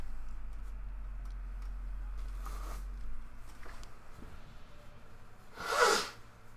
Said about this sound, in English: It was me blowing my nose really fast away from the microphone